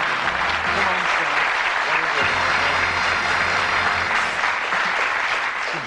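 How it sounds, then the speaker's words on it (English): Studio audience at a 1982 British darts game show applauding contestants, loud sustained clapping throughout, with a host's voice speaking over it. "Give them a nice round of applause"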